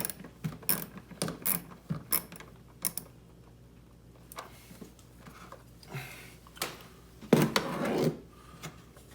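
Screws are backed out of a car's MAF sensor under the cowl with clicking ratchet turns and clattering handling noises in uneven bursts, separated by quieter pauses.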